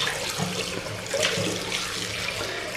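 Yellowish tap water runs steadily from a faucet into a white kitchen sink, a constant close splashing gush with no talking.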